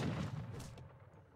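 Leather cannon artillery firing in a real-time strategy game: one muffled boom right at the start that dies away within about a second, quiet and with no talking.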